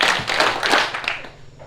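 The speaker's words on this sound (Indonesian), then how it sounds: "Berbicara depan semua orang. 3 tepukan." A few quick hand claps in a public speaking class, bright, fairly loud and close, sounding together as a short burst, followed by a brief quieter moment.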